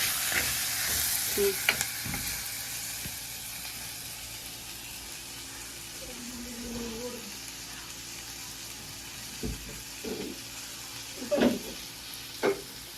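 Spicy Sri Lankan prawn curry fries in a clay pot with a faint, steady sizzle. Soft scraping stirs now and then break through the hiss, with no talking.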